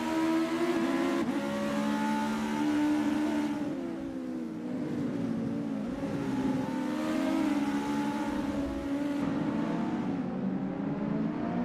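US Legend Cars racing at VIR Grand West in a sim race, a steady loud engine drone with rising and falling revs as the cars shift gears and hold position close together, without any talk.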